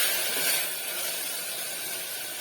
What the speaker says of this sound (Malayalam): ഇനി ഇത് നന്നായിട്ടൊന്ന് വഴറ്റി എടുക്കാം